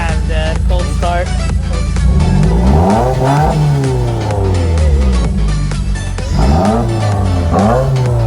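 A 2021 Subaru WRX with a Remark axle-back exhaust rumbles at cold start, loud and close, its engine revving and rising in pitch in repeated pulls, with excited voices talking over it throughout.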